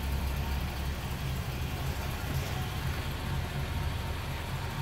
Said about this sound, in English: you can hear how smooth that engine runs too